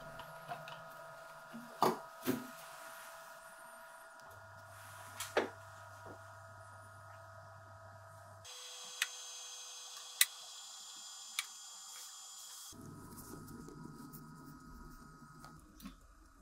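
A watch parts cleaning machine runs with a steady tonal hum that changes pitch in distinct stages, punctuated by occasional sharp clicks and ticks, fairly quiet with no talking.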